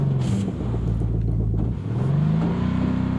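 A car engine in the Arena Breakout video game hums loudly and steadily, then its pitch climbs as it accelerates and shifts, all close and continuous.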